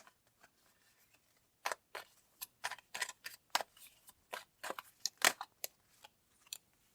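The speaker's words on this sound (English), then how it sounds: "I'm going to pull out some more cards." Tarot cards are drawn from a deck during a reading, making a quiet series of crisp, irregular snaps and flicks, close by and with no talking.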